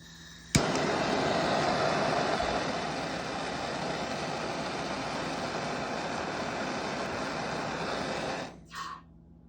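A torch roars steadily while annealing a pure silver coin ring, starting with a sharp ignition pop and cutting off near the end, followed by a brief clink.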